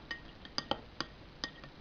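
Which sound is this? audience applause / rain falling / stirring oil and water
stirring oil and water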